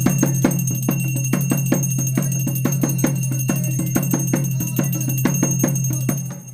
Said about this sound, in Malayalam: ഓട്ടുമണിയും കിലുക്കിയോണവില്ലിന്റെയും ഒറ്റച്ചണ്ടയുടെയും താളത്തിലാണ് വരവ്